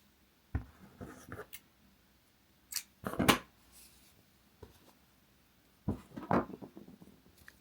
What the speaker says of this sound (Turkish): Yeteri kadar ip bırakıp kesiyorum.